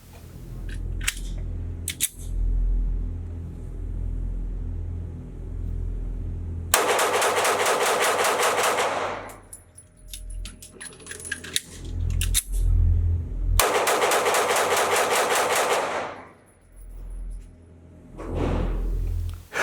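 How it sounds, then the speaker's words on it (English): Two rapid strings of pistol shots from a Sig Sauer P365 at an outdoor range, each a dense burst of loud cracks, split by a pause with clicks and handling sounds of a magazine change, with scattered single shots from other shooters around them. "I'm going to put 2 magazines down range in pretty rapid succession, see what I think with a single magazine change."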